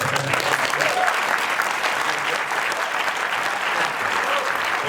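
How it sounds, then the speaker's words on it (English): Audience applause at a Q&A panel following a film screening, a dense, steady wash of clapping from a full room sustained for about five seconds, with faint voices mixed underneath. "Another round of applause for our director here, Trey Edward Shults."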